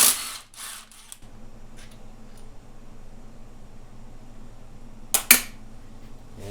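A tool works loose bolts from a Honda CB550-series engine case, giving brief ratcheting clicks and sharp metallic snaps, with a faint mechanical hum in between and two louder clacks near the end.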